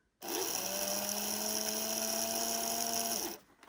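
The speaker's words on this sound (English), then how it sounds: "motor seems to be working pretty well" A Tri-ang model train's electric motor whirs up abruptly, holds a steady high-pitched whine for about three seconds, then winds down and stops, heard close and alone.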